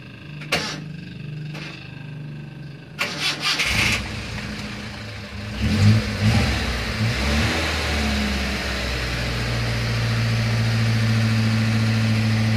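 A carbureted car engine, waiting for its fuel pump to prime, clicks a few times, then catches and settles into a steady, close idle with a low, even hum that continues to the end.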